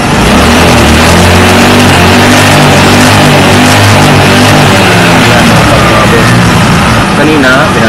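Misfiring Honda XRM125 motorcycle engine fitted with an aftermarket CDI, loud and close, idling roughly then revving with uneven stumbling pulses, steady throughout.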